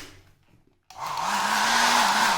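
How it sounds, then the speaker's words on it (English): A hotel room hair dryer in a luxury family suite switches on after a brief quiet moment and runs with a steady, loud, close whirring blow to the end. "it comes with a hair dryer"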